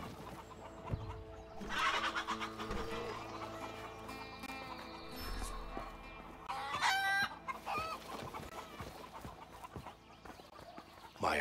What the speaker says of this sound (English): A flying chicken.